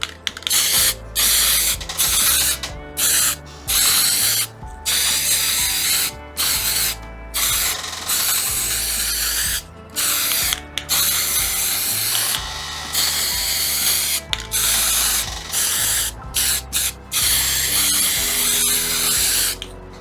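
Metal primer spray can hissing onto a small part for an Artesania Latina Soleil Royal ship model, in repeated short close bursts broken by brief gaps, with rattling and clicking between sprays.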